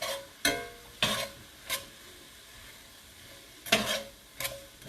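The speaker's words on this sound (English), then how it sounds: "We're gonna give it a good stir." Meat pie filling being stirred in a pan, with a few spaced scraping strokes over a soft simmering sizzle, close and fairly quiet, no voices.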